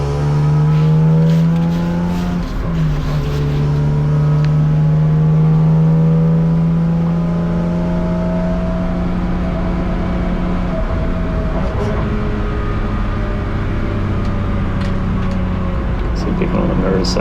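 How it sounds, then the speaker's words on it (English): BMW race car in an endurance series qualifying session at Hampton Downs, engine note climbing steadily through the gears as it accelerates up the straight, loud in-car drone with a shift partway through, a driver talking over it. "I'm just going to give it a squirt up the straight just to get some more distance between us"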